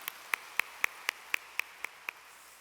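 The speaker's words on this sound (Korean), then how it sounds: "영광의 박수 돌리도록 하겠습니다." Slow, evenly spaced claps from a prayer meeting congregation, about nine sharp single claps in steady rhythm over faint background hiss, fairly distant in a large room.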